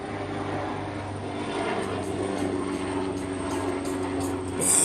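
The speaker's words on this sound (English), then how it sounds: "I'm gonna let this helicopter go by." Steady engine drone of a helicopter passing overhead, a constant low rumble that holds throughout and swells slightly near the end as it draws closer.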